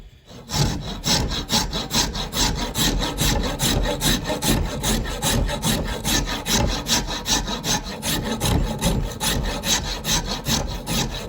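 A hand rasp filing a hickory knife handle, steady back-and-forth rasping strokes in a quick even rhythm, close and loud, continuing without pause and with no talking.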